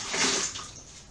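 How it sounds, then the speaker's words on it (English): Water spills from a tilted jar through a fine net in a soft, brief rushing splash that fades out over about a second. "the water does not leak from it unless we tilt it, and it can get a clear path to go out"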